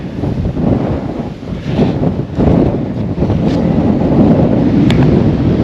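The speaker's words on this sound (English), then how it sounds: "It's really windy." Strong wind roars and buffets the microphone up a tower at an abandoned historical mining town in New Zealand, a dense low rumble that swells louder partway through and stays heavy to the end.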